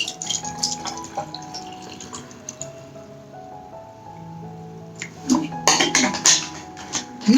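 Water is poured into a glass, a bright splashing trickle that starts strongly, thins out, then returns with clinks and splashes near the end, close and alone.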